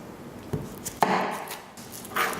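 A knife chops through the ends of an onion on a cutting board, giving three or four crisp close thuds spaced unevenly over a couple of seconds, with quiet room noise between strikes.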